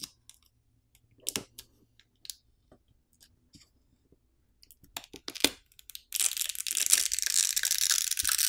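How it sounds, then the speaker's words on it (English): Huawei Nova 8 5G phone battery being pried off with pull tabs: scattered small clicks and crinkles at first, then a sustained loud crackling, tearing rasp of adhesive peeling away, close up with no talk. "Now we can use the provided pull tabs to pry off the battery."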